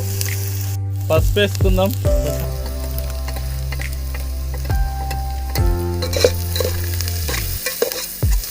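Onions frying in oil until brown for a Telangana-style boti curry, stirred steadily in the pan with a soft continuous sizzle beneath a prominent melodic music track.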